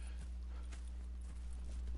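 Horse hooves clip-clop at a walking pace in the video game Red Dead Redemption 2, several soft evenly spaced hoofbeats over a low ambient hum, faint and without talk.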